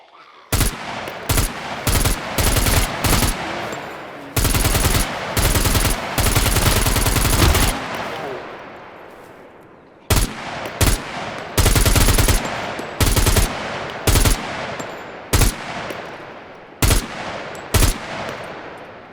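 An RPK machine gun fires in the video game SCUM, loud and close, in repeated bursts and single shots. A long sustained burst is followed by a pause, then more short bursts and rapid single rounds.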